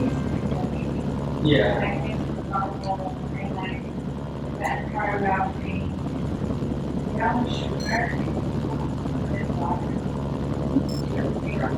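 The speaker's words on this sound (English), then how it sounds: "It's probably not a good idea to get too close to the site with that chopper." A helicopter flies in the video game Mercenaries: Playground of Destruction, its steady rotor and engine drone running loud and continuous for the whole stretch, with scattered game sounds layered over it.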